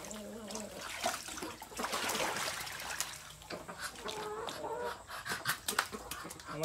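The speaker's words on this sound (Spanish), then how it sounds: "Vamos a estar botando el agua." Dirty water being poured and splashed out of a farm trough before cleaning, a broad, steady wash of splashing and trickling with brief louder gushes, alongside faint bird and animal sounds in the background.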